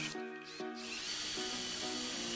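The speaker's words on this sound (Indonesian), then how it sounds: "Ini mata bornya adalah 4 mm, akan saya bor di ujungnya ya" A power drill fitted with a 4 mm bit bores into a light steel C-channel door frame, with a short motor whine that starts, pauses briefly, then runs steadily with a grinding pitch.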